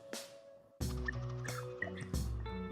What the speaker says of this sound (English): I'm gonna pour a shot for you.